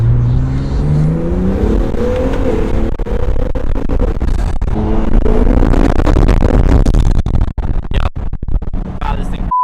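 An old Acura NSX engine revs and pulls hard, loud and close, the note climbing in repeated surges with gear changes, while voices talk over it from inside the car.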